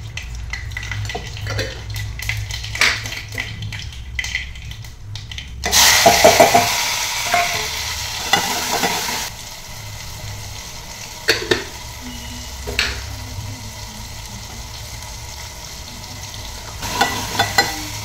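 Whole masoor lentils dropped into a hot tempering in a pan on a single burner, a sudden loud sizzle that settles into a steady frying hiss with occasional utensil clinks.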